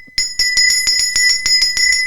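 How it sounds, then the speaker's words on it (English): A small bell is rung rapidly and repeatedly, about a dozen bright metallic dings in a fast, slightly uneven rhythm, loud and close, with no other sound. "too much bell ringing"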